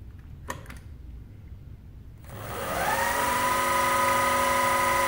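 A PM-25MV milling machine spindle, fitted with replaced bearings, is switched on after a couple of faint clicks, then spins up into a loud, steady whine at 3000 RPM and holds that pitch.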